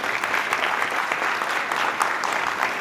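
Dense, steady applause from an audience at a state-level children's bravery award ceremony in Sinnar, Maharashtra, a continuous wash of many hands clapping at even loudness throughout.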